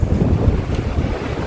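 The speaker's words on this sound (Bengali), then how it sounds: "হাওয়া হাওয়া" Strong wind buffets the microphone in a rough, continuous roar on a hillside veranda in Darinbadi, loud and close with no other sounds standing out.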